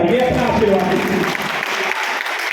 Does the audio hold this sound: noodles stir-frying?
no